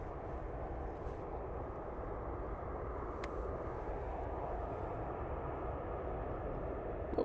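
A Jet2 airliner at Manchester Airport, a steady broadband engine roar that holds evenly throughout without any voices.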